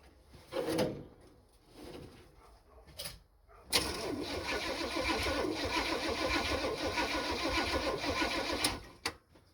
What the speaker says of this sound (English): We're just gonna see if it cranks.